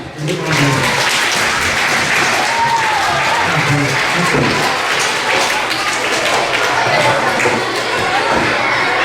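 A school assembly audience applauds in a broad, sustained wash of clapping from a large crowd, steady and loud throughout, with faint voices and shuffling mixed in.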